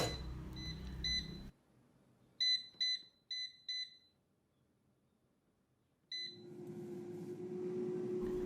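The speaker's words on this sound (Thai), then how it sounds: "เราจะทอดด้วยหม้อทอดไร้น้ำมันนะครับ" An air fryer set to 150 degrees for five minutes, frying Chinese sausage, gives a few short electronic beeps, first in a pair and then a quick series of four, followed by a steady low fan hum from the running unit.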